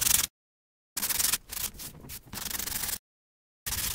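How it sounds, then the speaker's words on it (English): Light-touch hand sanding of a fiberglass repair on an OC2 outrigger canoe outdoors: several close, loud, scratchy strokes broken by short silent pauses. "Not sanding hard, just a very light touch."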